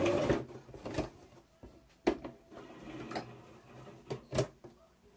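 Sewing machine back stitching two fabric bow pieces together, with irregular bursts of mechanical whirring and clunks, sharp thumps and pauses between short runs, close by.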